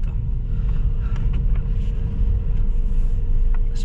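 Toyota Vios with an intermittent P0010 check-engine fault idling after a restart, a steady low engine rumble close by with faint clicks over it, no talk.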